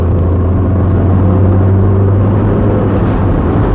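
Steady, loud engine drone from a Vauxhall Mk3 Cavalier with a 1.6 engine, pulling hard to pass another car, heard from inside the cabin with constant low rumble and road noise and no talking.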